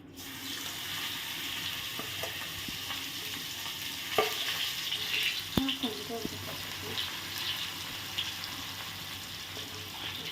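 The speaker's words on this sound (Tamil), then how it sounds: "எண்ணெய் நல்லா ஹீட் ஆகிடுச்சு இந்த ப்ராக்லியை நம்ம இதில் ஆட் பண்ணிடலாம்" Broccoli frying in a little hot oil for a crispy broccoli fry: a steady, moderate hiss of sizzling with a few sharp clicks and clatters of stirring partway through, no speech.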